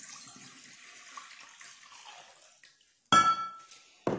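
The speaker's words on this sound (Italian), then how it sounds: "Adesso prendiamo un contenitore nel quale ci mettiamo il nostro litro di acqua" Water pours into a container while pizza dough is prepared, a soft steady trickle that stops, followed by a louder splash of water hitting the vessel and a second short burst at the end.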